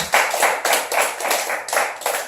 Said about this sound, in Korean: 우리 하나님 아버지께 영광의 박수 드립니다.